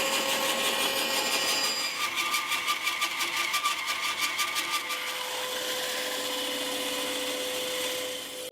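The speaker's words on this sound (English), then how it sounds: "But if I cut it to about 3mm, 4mm perhaps, then I can just sand it down to the right thickness." A power saw cuts wood veneer meant for a guitar headstock, a steady whine with a rapid rhythmic chatter through the middle, close and fairly loud, then the motor runs on without cutting before spinning down.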